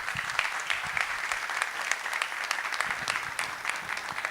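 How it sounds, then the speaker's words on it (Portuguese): A crowd at a business event claps steadily, a dense, sustained wash of applause that stays at an even level throughout with no pause. "Então uma salva de palmas, galera, por gentileza"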